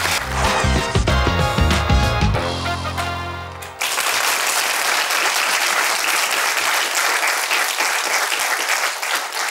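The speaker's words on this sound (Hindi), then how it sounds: "तालियां बजाएं।" Studio audience on a Pakistani talk show breaks into loud, sustained applause; it starts over the tail of music and runs steadily for about six seconds.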